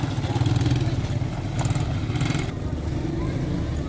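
Small children's motorbikes run in a play area at Wadi Darbat, Salalah. A steady, buzzing engine drone carries on throughout, with some clattering, and a voice talks over it.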